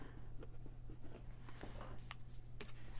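Pen or marker scratching out a number on the lid of a plastic color cube, a series of short, soft strokes close by over a steady low hum, with no talking.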